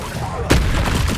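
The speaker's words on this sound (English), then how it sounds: "Expelliarmus." A spell cast in Hogwarts Legacy lands as one sharp, loud burst about halfway through, then fades into a steady wash of game ambience.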